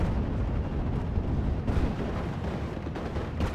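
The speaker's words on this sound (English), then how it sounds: "We got the Panzerwerfer now firing a barrage." A Panzerwerfer rocket artillery barrage in a video game: a dense, continuous roar of overlapping blasts and booming impacts that stays loud for the whole stretch, with no voices.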